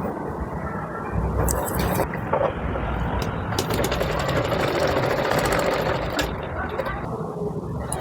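Sewing machine stitching the seam of an umbrella frock, a rapid steady mechanical whir in bursts close to the microphone, with someone talking over it at times.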